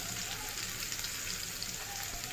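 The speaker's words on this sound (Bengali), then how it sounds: "এবার পেঁয়াজ ও রসুন 3-4 মিনিট ভেজে নিব কালার না আসা পর্যন্ত।" Onion and garlic frying in oil for a Bangladeshi egg lentil dish, a steady close sizzle and crackle with no pauses, carrying evenly and alone.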